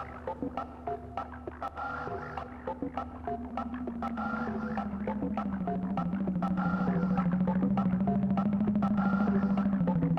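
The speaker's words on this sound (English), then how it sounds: "this is the sound of the CO2 data that's been translated into sound and playing that synth" A synth plays CO2 concentration data turned into sound: steady sustained tones that slowly slide in pitch under a pulsing stream of clicks, growing gradually louder.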